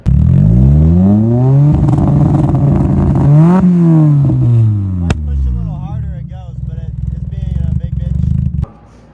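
A car engine revs repeatedly near the mic, rising and falling in pitch and topping out at a limited ceiling as though held back by a fault, then settling into a rough idle before cutting off.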